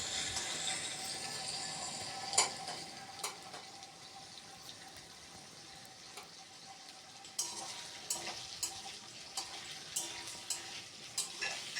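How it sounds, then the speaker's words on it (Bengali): Diced potatoes sizzle in hot oil as they are turned and stirred, a steady close frying hiss broken by a run of sharp spatula scrapes and clicks against the pan. "তেলেতে এভাবেই উল্টে পাল্টে নেড়ে চেড়ে আমি আলুগুলোকে ভেজে নিচ্ছি।"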